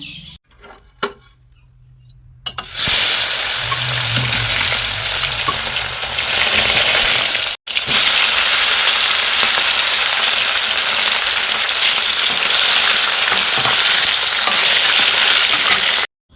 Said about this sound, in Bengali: তো চলো মাছটা ঝটপট করে ভেজে নিই। এদিকে কড়াইয়ের তেলটা গরম হয়ে গেছে।